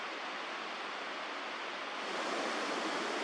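Fast-flowing water of the Pentridge River rushing through forest, a steady broadband roar that swells slightly louder toward the end, continuous and fairly close with no voices.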